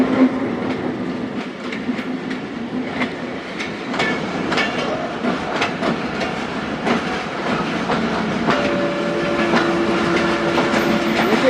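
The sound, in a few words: Hazara Express train departing, pulled by locomotive 8311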